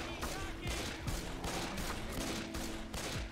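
Rapid gunfire from a shooter game blasts away at infected enemies in a mall, bursts of shots repeating steadily over a dense, loud game backdrop.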